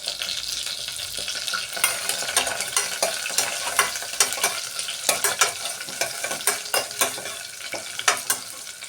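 Curry leaves crackle and spatter in hot tempering oil for a Rayalaseema-style fenugreek dal, a close, continuous sizzle dotted with sharp popping bursts.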